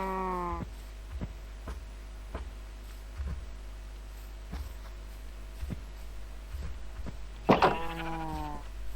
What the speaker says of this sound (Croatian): Evo ga, imamo jednu kravu.